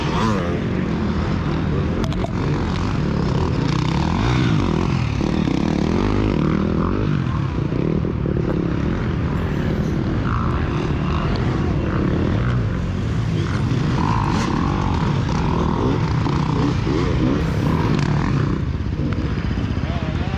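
A Beta dirt bike races through a rough harescramble course, its engine roaring and revving continuously with other motorcycle noise, close and loud throughout with no pauses.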